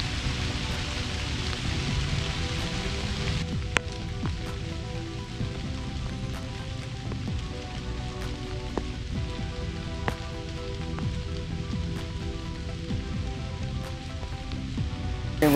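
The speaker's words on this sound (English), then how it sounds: "Nestled under this canopy right now, staying dry from the rain right now." Rain falls steadily on a canopy over a fishing spot in a dense, continuous patter, with occasional sharper drops striking the cover nearby.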